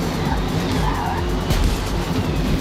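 Car in Forza Motorsport spinning out after being rammed just before a corner, a steady roar of engine and tyre skid with a brief louder burst midway, no voices.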